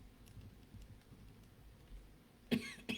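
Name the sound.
coughing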